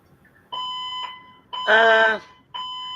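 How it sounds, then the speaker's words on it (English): An alarm goes off in repeated electronic tonal beeps, with a louder, harsher burst in the middle, loud and steady with no talk over it. "That alarm must be very irritating, Mikey."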